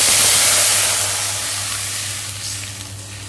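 Water poured into a hot wok with melted ghee bursts into a loud, close sizzling hiss that slowly fades as the steam dies down, with no talking.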